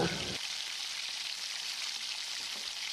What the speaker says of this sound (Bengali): বাকি তেলের মধ্যে ফোড়নে দেবো কালো জিরে দিয়ে বাটা মশলা দিয়ে ভালো করে কষিয়ে নেব